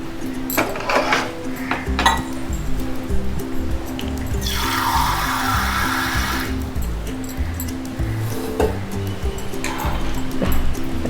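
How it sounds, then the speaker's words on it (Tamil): Water poured from a tumbler into a metal pan to make jaggery syrup, a steady rushing pour lasting about two seconds amid kitchen clatter, with someone speaking around it. "பாருங்க, 3/4 டம்ளர் தண்ணி விட்டுருக்கேன்."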